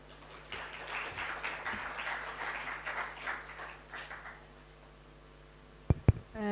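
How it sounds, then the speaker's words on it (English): An audience applauds after a presentation at a summer course. The clapping is faint and distant, spread over several seconds before fading, and a few sharp knocks follow. "Please give applause to Dr. Ruzilawati again."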